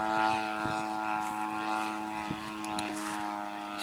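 A Seagull Models RV-8 radio-controlled model airplane's propeller engine drones steadily at a distance, holding a buzzing, even pitch in windy conditions.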